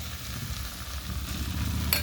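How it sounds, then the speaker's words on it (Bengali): Fish coated in masala fries in a pan with a steady, close sizzle, and a brief scrape or clink near the end. "এটা সুন্দর করে ভেজে নিই"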